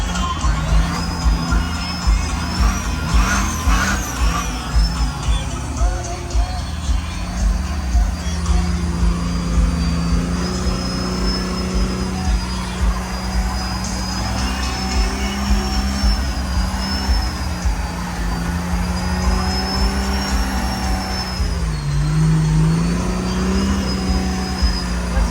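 Diesel pickup truck revving hard through a burnout at a rolling coal truck event in Canada, a sustained loud engine roar with shifting pitch holding steady for the whole stretch, with crowd and background noise mixed underneath.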